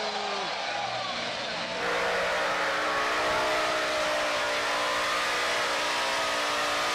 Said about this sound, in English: Dude, runaway diesel is the crazy.